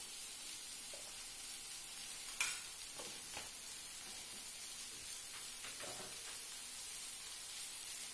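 Okra frying in oil in a pan as gram flour is stirred in, giving a steady quiet sizzle with a few faint scrapes and one small clink, and no talking.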